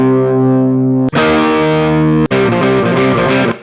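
A distorted electric guitar through a large studio room reverb in Amplitude 5, dialed toward a classic hard-rock tone, playing loud sustained chords with two sharp breaks where new chords strike, the ringing tail filling the space.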